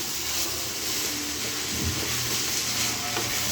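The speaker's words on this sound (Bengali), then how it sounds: "আমি খুব ভালো করে ভাজা নিতেছি" Pulao rice frying in a pan with ginger, giving a steady close sizzle under scraping stir strokes, no talking.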